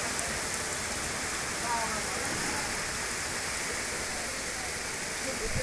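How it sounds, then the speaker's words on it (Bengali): Heavy rain pours steadily outdoors, a dense, even hiss of drops on surfaces at moderate loudness that holds unbroken throughout, with no talking. "খুব জোর বৃষ্টি হচ্ছে।"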